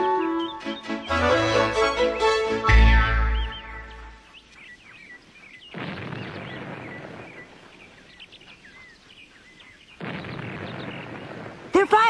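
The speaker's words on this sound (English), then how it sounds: "They're firing the ferry boat cannon." A ferry boat's cannon fires over a river, a loud, heavy boom that rumbles away into quiet, with birds calling faintly and bursts of ambient noise afterward.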